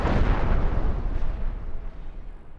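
Torpedo explosions in the space-combat game Star Trek: Cosmoteer roll together into a loud, continuous burst of deep booming rumble that slowly fades over a few seconds, with no one talking.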